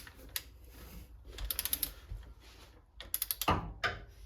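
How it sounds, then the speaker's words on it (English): Torque wrench tightening the crank pulley bolt on an Acura MDX during a timing belt service, giving quick bursts of sharp mechanical clicks with short pauses between them, close and fairly loud, with no talking. "we're tightening the torque crank pulley to 48 foot-pounds and 60 degrees"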